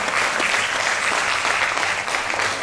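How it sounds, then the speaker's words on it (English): Sustained, dense audience applause after a Bharatanatyam dance performance by a team, steady and full throughout with no voices on top. "Please give another big round of applause for the entire team."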